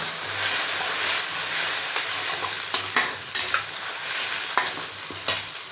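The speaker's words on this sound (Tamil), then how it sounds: "அந்த பேஸ்ட்டு போட்டுக்குவோம் போட்டு அதையும் நல்லா மிக்ஸ் பண்ணிக்கோங்க" Onion, tomato and curry leaf paste fries in a pan for a fish curry, a steady close sizzle broken by the scrape and clack of a spoon stirring every second or so.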